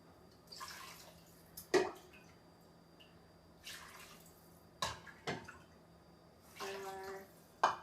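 Water is poured in several short splashing bursts into a smaller crock pot during preparation of vegetarian French onion soup, with pauses between pours in a quiet kitchen.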